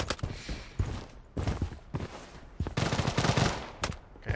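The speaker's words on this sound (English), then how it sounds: "I never know where the shots are coming from." Gunfire in the Project: BloodStrike shooter game, several bursts of rapid automatic shots separated by short pauses, loud and close.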